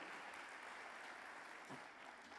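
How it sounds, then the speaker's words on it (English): At an annual meeting, an audience gives a round of applause for a Deputy Assistant Attorney General, heard as a faint, steady, distant hiss of many clapping hands without speech. "Can we give a nice round of applause to the Deputy Assistant Attorney General?"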